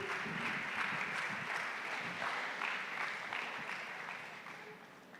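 An audience claps steadily to welcome leaders at a Cali panel event, a dense sustained round of applause from many hands that slowly fades toward the end.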